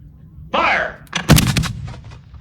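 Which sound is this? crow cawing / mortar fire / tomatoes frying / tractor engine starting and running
mortar fire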